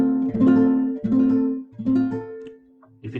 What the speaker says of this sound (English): So if you get your guitar, it has to sound like this.